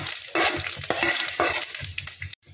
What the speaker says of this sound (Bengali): এবার এতে আমি দিয়ে দেব পাঁচ ফোড়ন